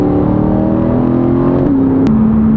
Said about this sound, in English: Honestly, for a non-flat plane V8, it sounds pretty decent.